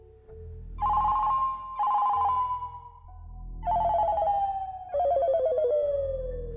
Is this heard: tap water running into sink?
no